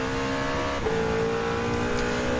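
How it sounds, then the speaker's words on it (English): A race car engine at high revs in Gran Turismo 7 on the Mulsanne straight at Le Mans, a steady loud droning whine with a small shift in pitch partway through. "Got to go rev it up and climbing up back onto the Mulsanne straight by 200 miles per hour"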